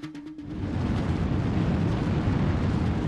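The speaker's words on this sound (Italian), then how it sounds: "In meno di un centesimo di secondo il razzo si accende." Solid rocket booster of the Space Shuttle Challenger igniting: a sudden blast swells into a loud, continuous, broadband roar that holds steady without letting up.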